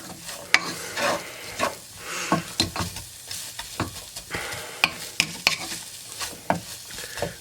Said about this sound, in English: I'm going to stir in the salt, pepper, garlic.